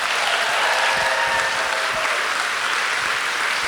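A festival panel audience gives steady, full applause as Marta Kauffman is welcomed, a dense continuous clapping with no talking.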